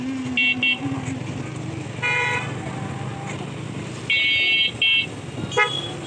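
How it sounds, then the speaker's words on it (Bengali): Cars and motorbikes crowd a busy road on an Eid holiday evening. Several short and longer horn honks ring out in bursts over a steady rumble of engines and traffic. "গাড়ির কত কত গাড়ি দেখেন।"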